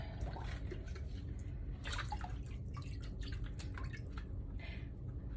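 Water rinsing out a shallow water marbling tray after paint printing, a steady splashing trickle with scattered drips, fairly close and continuous throughout.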